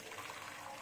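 Hot water poured out of a pot of boiled tofu and green peas to drain them, a brief steady rush and splash of liquid.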